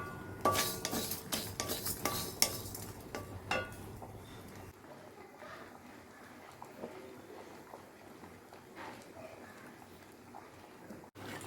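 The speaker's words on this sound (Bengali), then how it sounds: "একটু শুকনো খোলায় কিছু মশলা ভেজে নিচ্ছি" Spices dry-roasting in a hot, oil-free kadai for a khichdi meal: close metallic scraping and clinking of a utensil against the pan, busiest early on, then quieter intermittent stirring over a faint background hiss.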